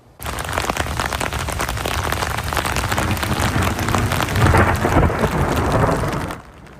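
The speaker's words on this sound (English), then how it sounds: "That's the moment lightning struck the top of the Calgary Tower, followed by a loud thunderclap." A loud thunderclap follows a lightning strike on the Calgary Tower downtown during a storm. It booms and rolls for about six seconds over the hiss of rain, then cuts off.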